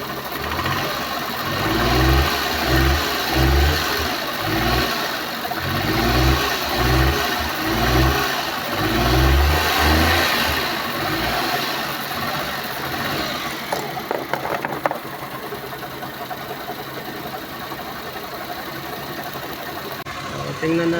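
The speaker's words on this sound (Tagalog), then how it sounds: "So, rev natin konti." A car engine with a suspected low-power fault revs in bursts, deep pulsing surges over a steady mechanical hum, then settles toward idle; a person talks over it.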